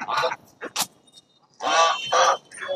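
Khaki Campbell and Rana ducks at a rural village poultry market near the Sundarbans give loud, nasal quacks and honks in several bursts, close by, with short pauses between calls.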